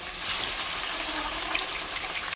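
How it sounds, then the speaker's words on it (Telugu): Freshly washed raw chicken goes into hot oil for dry chicken, setting off a steady, loud, close hiss and sizzle that holds evenly throughout and ends with a sharp clink. "ఆయిల్ హీట్ అయిన తర్వాత మనం ఇందులో చికెన్ డైరెక్ట్ ఫ్రెష్గా కడిగి పెట్టుకోవాలి కదా, అదే వేసేస్తాము"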